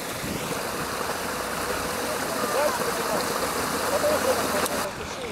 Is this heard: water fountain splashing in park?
yes